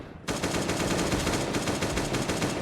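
Sustained rapid automatic fire from an AK rifle in a zombie shooter video game, a loud continuous burst that starts abruptly and runs for over two seconds.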